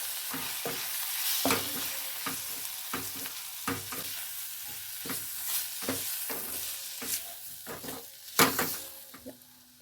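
Besan (gram flour) mixture being stirred in a hot pan over a low flame, with repeated scraping strokes at a steady rhythm above a continuous soft sizzle. The sound is close and moderately loud, and no one speaks.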